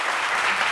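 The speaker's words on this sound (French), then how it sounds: "Et on peut applaudir pour Naounou Paulin." Audience applause, a short steady burst of many hands clapping at moderate loudness, heard on its own.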